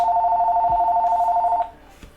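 A telephone rings with a steady two-tone electronic trill, loud and close, holding for about a second and a half before cutting off into quiet room tone.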